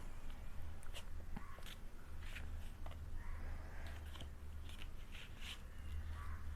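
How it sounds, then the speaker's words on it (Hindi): Tarot cards are shuffled close up and quietly, giving a string of soft crisp flicks and riffles at an uneven rhythm over faint background hiss. "Now I'm going to shuffle the cards for Sagittarius Career 2022."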